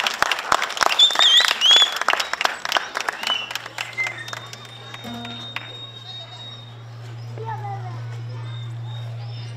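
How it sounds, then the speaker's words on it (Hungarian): A concert audience gives a performer a burst of applause, loud and dense at first and then thinning out. A voice speaks over and after the clapping, and a steady low hum joins partway through. "egy nagy tapsot kérek neki"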